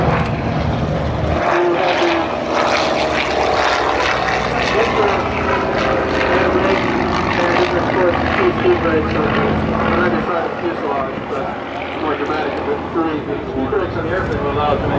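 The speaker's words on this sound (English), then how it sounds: "Skyraider once more deploying its air brake." Douglas Skyraider propeller warbird flying past at a beach air show with its air brake deployed, a loud, continuous droning piston-engine roar that holds strong for the whole span, with no talk over it.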